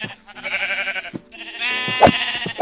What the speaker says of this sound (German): Ich töte gerade Schafe mit meiner Schaufel.